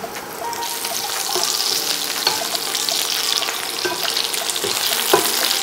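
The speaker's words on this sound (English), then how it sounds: "Now I'm going to fry down my onions, but I ain't frying them all the way." Onions sizzle and crackle steadily in a hot pan, a dense hiss with occasional pops and scraping, no voices heard.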